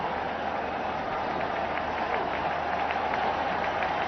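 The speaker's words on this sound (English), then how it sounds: "The crowd is already getting excited." Cricket crowd at an India versus Australia match applauds steadily as a Mumbai batsman on 97 nears his century, a continuous even patter of many hands, moderately distant and without a break.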